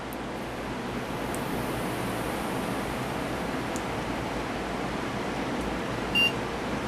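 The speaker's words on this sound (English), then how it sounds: "Okay, so we get our post beep." A brief, faint beep sounds once near the end as a server powers up during its startup self-test, sitting over a steady broadband hum of cooling fans.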